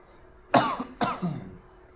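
Two sharp, close coughs in quick succession, about half a second apart, then quiet.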